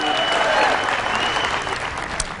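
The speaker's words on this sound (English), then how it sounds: "Give yourselves a round of applause" A crowd applauds at Republican Eddie Rispone's concession speech in the Louisiana governor's race, a dense, loud, sustained clapping filling the hall, with faint voices under it.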